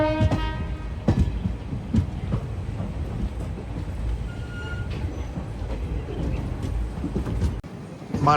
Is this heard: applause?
no